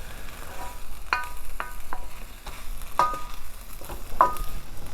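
Tofu and Brussels sprouts stir-fry in a pan, a steady close sizzle running throughout with several sharp clinks and scrapes of a utensil stirring against the pan, no talking.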